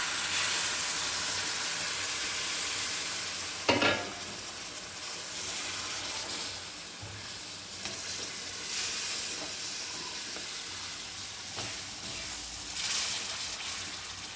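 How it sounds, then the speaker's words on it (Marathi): Mutton masala frying in a pan gives a steady broadband sizzle that runs throughout, with a few brief stirring clatters and no talking. "कारण आता हे मसाला मी तिथंच फ्राय करायला"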